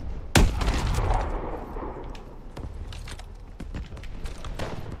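Gunfire in the Call of Duty Advanced Warfare video game opens with a sharp, loud shot, followed by a rumbling tail and scattered lighter pops and clicks of battle in the background.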